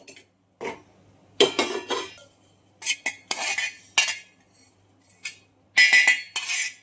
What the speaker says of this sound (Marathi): हे सुद्धा आता मी एका डिशमध्ये काढून घेते